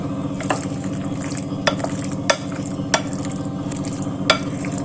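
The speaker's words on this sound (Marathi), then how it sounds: "समोर मिक्स करायचं पास्ता टोमॅटो कुकुंबर" Pasta salad with tomato and cucumber being stirred in a bowl, soft continuous mixing with a few sharp clicks of a utensil against the dish, over a steady low hum.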